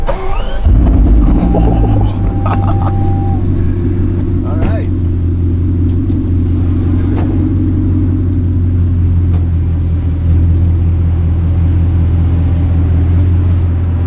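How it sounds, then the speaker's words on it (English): A Bugatti supercar engine fires up with a sharp start, then settles into a loud, deep, steady idle rumble heard from inside the snug cabin, with a brief spoken remark over it. "Engine on."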